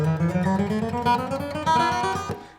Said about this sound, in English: what everybody is doing is playing chromatic scales